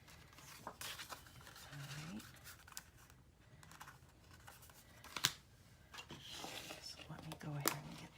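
Scissors snip through paper while cutting out a traced tag for a Graphic 45 mini album, several crisp, sharp cuts spaced irregularly, close and quiet, with faint handling rustles between them.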